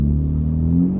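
A 2018 Honda Civic Hatchback with a turbo engine hums close by, its exhaust note rising slightly in a brief low rev lasting about a second.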